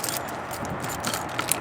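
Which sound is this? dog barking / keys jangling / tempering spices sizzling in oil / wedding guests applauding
keys jangling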